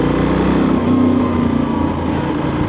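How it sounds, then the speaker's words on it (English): A Benelli 800 Trail motorcycle engine drones steadily and loudly up close, a constant rumbling hum with slight pitch drift and no voices. "It's a nice noise in this bike."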